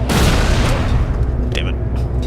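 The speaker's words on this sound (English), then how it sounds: "Plasma grenade." A plasma grenade explodes in the PSP shooter Resistance Retribution as a loud, close boom that fills the opening moment, then rumbles and decays over a second or two. Scattered smaller game sounds follow.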